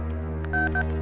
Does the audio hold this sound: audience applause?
no